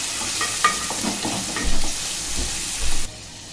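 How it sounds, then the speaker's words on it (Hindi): Cumin seeds and ground onion frying in a hot pan give a steady loud sizzle, with a few stirring scrapes and bubbling surges over it, and nobody talks. "इसी साथ जीरा डालेंगे। अभी इसको अच्छे से भुनेंगे।"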